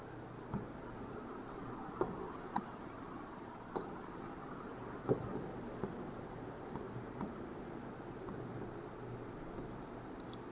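Chalk tapping and scratching on a classroom board during a Class 12 chemistry lesson gives faint, sparse clicks and short scrapes over a quiet, hissy room tone.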